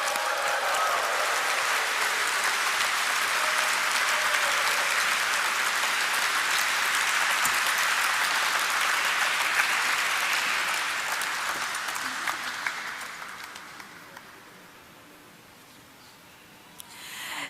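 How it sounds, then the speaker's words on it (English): Audience applause at the ideaForge Technology stock listing ceremony, a dense, sustained wash of clapping from a large room that holds steady for about twelve seconds, then fades to quiet room tone. "let us have a resounding of claps to mark the celebrations"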